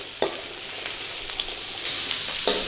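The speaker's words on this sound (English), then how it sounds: "A quick stir fry" Food stir-frying in a pan for a British Indian restaurant-style North Indian dish, a steady broadband sizzle with occasional louder scrapes and clatters of stirring, close and continuous, with no talking.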